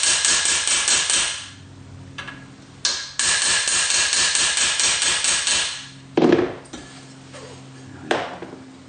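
Rivets being hammered on model steam locomotive components: rapid, close, loud bursts of metallic taps in quick repeated runs, broken by short pauses and a couple of heavier single blows.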